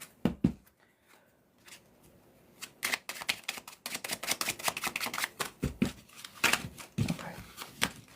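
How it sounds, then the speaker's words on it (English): Tarot cards are shuffled by hand in quick, crisp, close bursts of riffling clicks that come in uneven runs, fairly soft overall, with a short pause near the start. "I'm going to give you one more shuffle"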